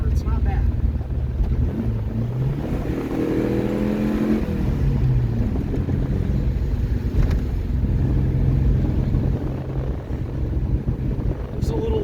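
A car with an 80-horsepower engine cruises along the road, giving a steady, loud rumble mixed with wind buffeting throughout, while people talk over it.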